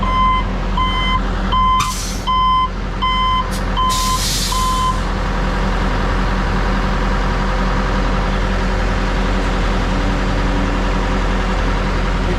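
A concrete truck backs in at a concrete pumping job, its reversing alarm beeping loudly in a regular rhythm for several seconds over a heavy, idling diesel engine that keeps rumbling after the beeps stop.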